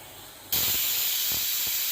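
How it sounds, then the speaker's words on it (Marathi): A pressure cooker whistle bursts into a loud, sustained hiss of escaping steam after a quiet moment, continuing steadily until cut off. "अशाच पद्धतीने तीन शिट्ट्या करून गॅस बंद करून घ्यायचा"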